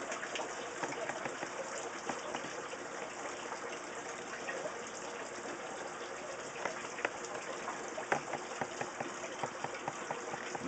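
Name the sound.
fish tank water dripping through PVC into potted plants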